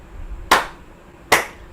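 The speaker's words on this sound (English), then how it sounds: "clapped his hands 3 times" Two sharp, bright hand claps ring out about a second apart, each standing alone over a quiet room with a faint low hum.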